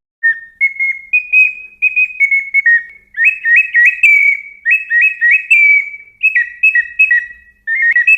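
A shrill, warbling clay bird whistle, a folk toy, trills in short bursts imitating birdsong, loud and close, with brief pauses between phrases.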